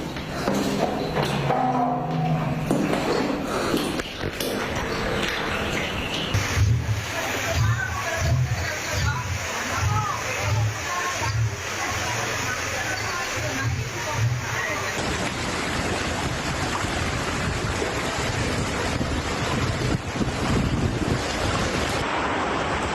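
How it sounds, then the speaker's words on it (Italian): Floodwater rushes down a narrow street in flooded Venice, a continuous loud wash of flowing water with gusts of wind buffeting the microphone and occasional dull thumps. "Qua stradina nostra c'è un piccolo fiume in piena che scorre"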